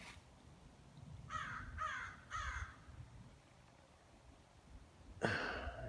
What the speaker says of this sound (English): Crows keep doing flybys.